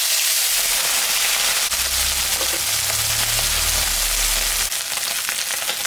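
Rui fish frying in hot mustard oil with salt and turmeric gives a continuous crackling sizzle with scattered pops, alongside a low rumbling hum from the stove.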